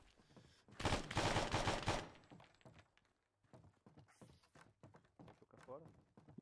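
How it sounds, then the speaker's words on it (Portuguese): Gunfire in the video game Arma 3, a burst of rapid shots in the first couple of seconds followed by a few softer thumps while players talk over voice chat. "Três tiros no peito e está feito."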